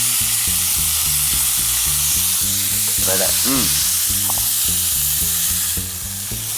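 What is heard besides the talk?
duck pan-frying and sizzling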